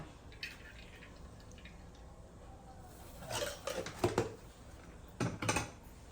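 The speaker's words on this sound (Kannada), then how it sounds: "100 ಗ್ರಾಮ್ ಎಣ್ಣೆ ಹಾಕೋತಾ ಇದ್ದೀವಿ" Oil going into a heated wok-style pan, a few short splashy bursts and drips against a quiet background, brief and moderately close.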